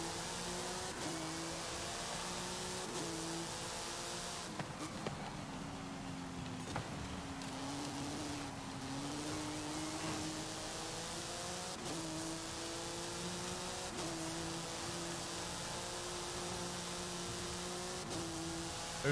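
A car engine races in Forza Horizon 5, a sustained, fairly quiet drone that climbs in pitch and drops back at each gear shift across a long run, with no talking.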